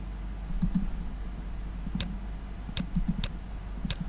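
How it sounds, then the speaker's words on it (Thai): Shortcut commands for AutoCAD or GstarCAD typed on a computer keyboard: a few scattered, crisp key taps in small clusters over a low background hum, close and fairly quiet, no talk. "ก็คือการเคาะลงไปที่คีย์บอร์ดตรง ๆ"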